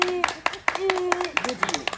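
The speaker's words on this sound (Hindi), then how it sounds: "ताली" A few people clap in sharp, uneven bursts at a village wedding garland ceremony, with distinct close claps scattered across two seconds under ongoing talk and a sung or drawn-out voice.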